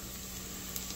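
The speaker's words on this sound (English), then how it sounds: "The sizzling of garlic does something to a guy." Faint, steady sizzling of garlic frying in hot oil, a soft continuous crackle with no voices.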